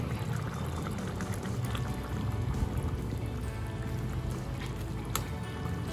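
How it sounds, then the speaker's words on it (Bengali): Half a spoon of ghee goes into a simmering vegetarian potato, pointed gourd and paneer curry, giving a low bubbling, slightly liquid texture close by, with a faint clink near the end. "সবশেষে আমি 1/2 চামচ গাওয়া ঘি দিয়ে দিলাম।"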